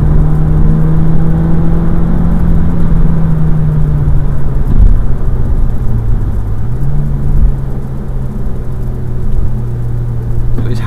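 A small MG car decorated for Christmas drones by on the road with a loud, steady engine hum and whir, close by, its pitch sagging briefly midway before settling again as it rolls on.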